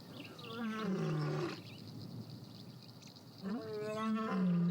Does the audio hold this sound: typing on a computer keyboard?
no